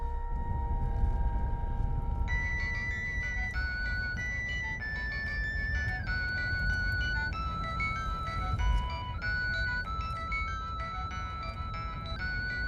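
A melodic electronic ringtone plays a sequence of bright beeping tones, repeating a tune over a low rumbling background.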